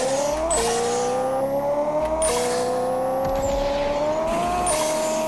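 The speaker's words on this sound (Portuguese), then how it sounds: "Olha o motor indo pro saco." An Audi R8 in the video game Pixel Car Racer revs hard through three gear shifts. Each time the engine pitch climbs steeply, and a short shift note follows. The sound is loud and close, with no talk.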